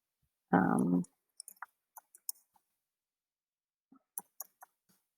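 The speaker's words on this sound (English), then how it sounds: "Pardon my bad typing here." A few scattered, light keyboard clicks come in small bursts after a short loud burst of noise, with quiet gaps between the taps and no talking.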